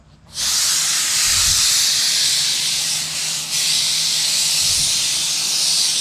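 A compressor-fed air spray gun hisses steadily and loudly for several seconds, a broad continuous rush of air with a slight dip midway, no talking over it.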